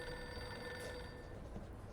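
Desk telephone ringing in an office scene of the video game Reverse: 1999, a quiet steady electronic ring tone repeating without pause, with no talking over it.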